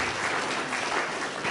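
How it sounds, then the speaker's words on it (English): Steady applause from a conference audience after a panel session on financial consumer protection, dense and even for a moment. "I'll give big applause to our two speakers here."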